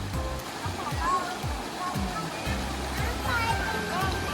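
Water pours steadily at Chanta Then waterfall in Bang Phra, Thailand, a constant moderate rush heard beneath people talking nearby.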